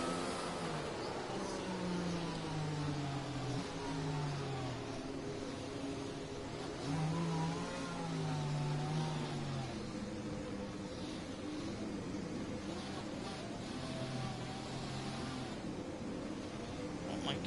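Racing video game car engine driving slowly to warm the tyres: a steady, fairly faint motor drone with rising and falling pitch sweeps, heard under a soft voice.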